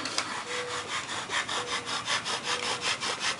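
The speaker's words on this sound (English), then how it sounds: "It's called a bow drill." A wooden bow drill spins against a wooden fireboard to make fire, a close, rhythmic back-and-forth rasp of about a dozen quick strokes with a faint squeak on some of them.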